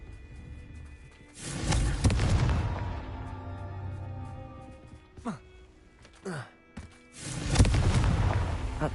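Confringo explosive spell in Hogwarts Legacy, two booming blasts with rumbling tails separated by quieter whooshing spell sounds, the second burst arriving at the end after a short voice.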